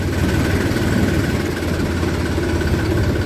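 A tractor engine runs steadily in reverse gear on a farm path, giving a continuous low, rumbling idle-like drone with even vibration throughout and no talk.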